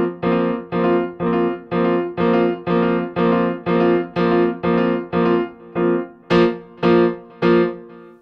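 A Nord Stage 3 acoustic piano patch with its electric piano layer turned down plays a repeated chord pattern, struck evenly about twice a second, loud and close, with the last few strikes brighter.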